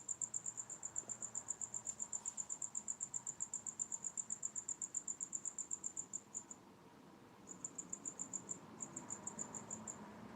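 Crickets chirp at night in a steady, rapid, high-pitched pulsing trill that runs continuously, with a brief break near the end before resuming. They sound moderately close and are heard alone with no talk.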